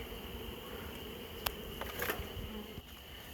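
Honey bees buzzing steadily during installation of a package of bees into a hive, a dense close drone with a few soft knocks and handling clicks, no talking.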